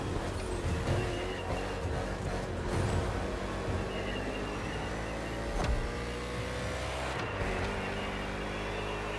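NASCAR stock cars racing on an urban street circuit in Honolulu, Hawaii, in The Crew Motorfest: continuous loud engine roar with shifting revs and a couple of sharp passing bursts, no talking.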